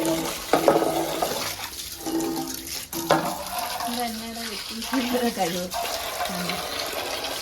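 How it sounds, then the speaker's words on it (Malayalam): Kitchen vessels get washed under running water, the tap splashing and clattering in bursts while people talk over it throughout at close range. "നമ്മളെ പാത്രം എല്ലാം കഴുകി വൃത്തിയാക്കുന്നു"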